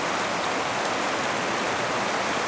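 Rock Creek runs in a dense, unbroken rush of water, loud and close, with no other sounds over it.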